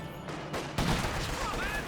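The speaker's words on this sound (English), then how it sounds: "Guard squad getting ripped apart by these STGs" StG assault rifles fire in the Company of Heroes 2 video game, giving dense bursts of rattling gunshots amid battle noise. A sharp, loud burst comes just before the midpoint, and the firing continues under a commentator's voice.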